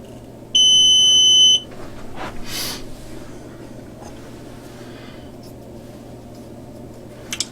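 An RCBS Chargemaster powder dispenser gives one loud, steady electronic beep lasting about a second, then quiet room hum with faint handling noises.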